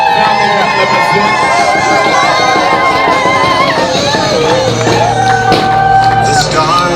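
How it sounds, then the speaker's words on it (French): Wedding guests cheer and shout hurrah for the groom, a loud crowd of voices calling out together, sustained and close throughout. "Je vous prie de réserver un hurrah au marié, faire des acclamations."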